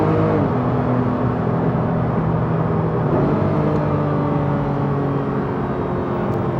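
Porsche GT3 RS engine revving toward 7,000 RPM, a loud, continuous high-pitched whine climbing steadily in pitch with a brief dip around a gear change, heard from inside the car.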